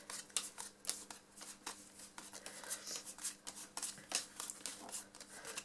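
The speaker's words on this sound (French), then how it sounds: "je distribue de sorte à faire 4 paquets de cartes" Playing cards are dealt into four piles for a card trick, a quiet string of irregular soft flicks and slaps close by.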